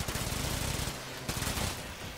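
A rapid-fire gun in Warframe shoots in a fast, steady stream of close, loud shots, broken briefly midway before the burst carries on.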